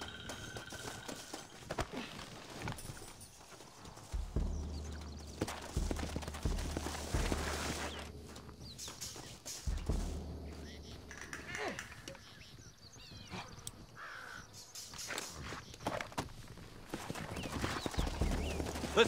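Horse hooves clip-clop in Red Dead Redemption, a steady trotting patter under game music and ambience, with a character talking over parts of it.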